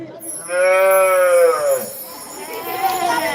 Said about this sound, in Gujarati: ઓલા ઢોરા રાડ્યું પાડે જો